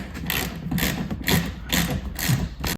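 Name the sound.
ratchet tightening bolts on a Jeep Wrangler hard top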